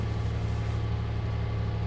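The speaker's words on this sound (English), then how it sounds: "That's the cool mixer that I'm hearing" Feed mixer running in Farming Simulator 22, a steady low droning hum with a faint rhythmic pulse, constant and alone throughout.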